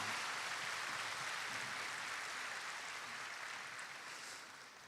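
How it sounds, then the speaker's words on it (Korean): A church congregation claps in a dense, sustained wash of applause during a Sunday worship service, steady for several seconds before starting to taper off at the end. "하나님께 영광의 박수 올려드리겠습니다"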